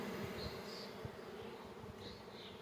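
A honey bee swarm at an apiary, a dense continuous buzz of many bees heard close and steady, with brief higher whines of individual bees passing nearby.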